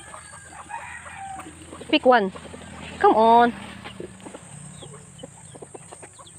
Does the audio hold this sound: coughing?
no